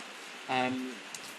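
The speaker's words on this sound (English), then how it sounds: "The rain is pouring." Steady pouring rain hisses outside a bar in Biarritz, France, on an evening seated at an outdoor table. A continuous wash of sound fills the background, and a voice briefly speaks over it.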